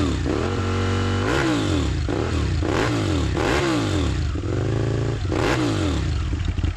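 A road-going Aprilia 1000 V-twin motorcycle engine revs repeatedly, loud and close, with rhythmic rises and falls in pitch as the throttle is blipped over a rumbling idle.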